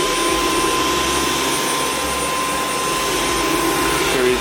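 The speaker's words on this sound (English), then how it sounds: "So let's start using this vacuum" A Dyson cordless stick vacuum, V11 Torque Drive or V6 Absolute, runs continuously at close range with a loud, steady motor whine and airy rush, no speech over it.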